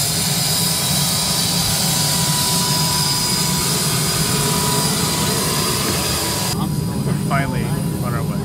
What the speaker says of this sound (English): Smallest plane I've ever been on in my life.